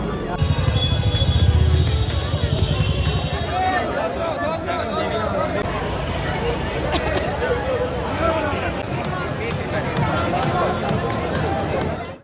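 A dense crowd fills the Esplanade metro station area in Kolkata at Christmas time, with continuous loud babble, shuffling and hurried running footsteps close by, and voices talking throughout.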